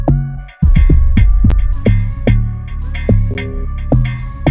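Synth lead melody playing over punchy drums in an Afro-piano style beat, loud and close, with rhythmic kick hits and repeating melodic phrases, no voices.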